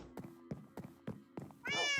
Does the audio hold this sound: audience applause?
no